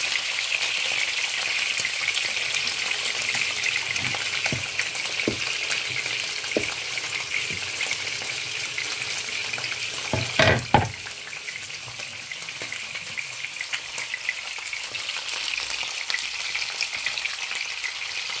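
Steady crackling sizzle of fish frying uncovered in hot oil, with a few soft clunks and taps from a utensil partway through.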